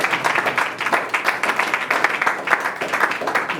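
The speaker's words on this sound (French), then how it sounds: "Nous acclamons pour la parole de l'homme" A church congregation applauds together, a dense, steady wash of many hands clapping at close range, continuing without pause throughout.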